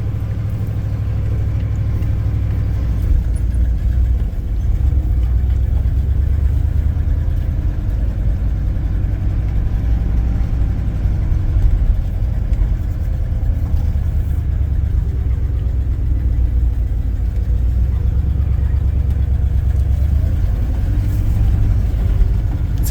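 A 1956 Pontiac Star Chief four-door hardtop with a Hydramatic automatic transmission drives along, its engine a steady low rumble heard from inside the car, with gentle rises in revs and no talking.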